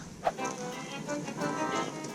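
Horses on a farm beside a pond, heard as a few soft hoof clops and shuffles under quiet outdoor ambience, with faint voices in the background.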